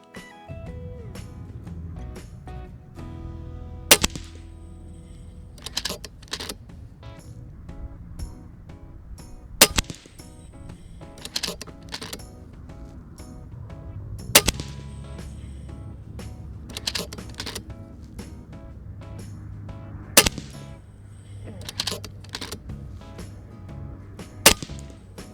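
An FX Impact MKII air rifle with a slug power kit fires slug shots at a target on maximum power, giving sharp isolated cracks several seconds apart over a low background hum, fairly close.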